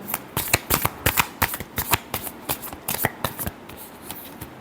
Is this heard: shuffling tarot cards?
yes